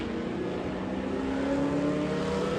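A race car engine roaring at Daytona International Speedway during a classic car race, a steady, loud droning rumble with a rising tonal whine, heard at a distance with no break.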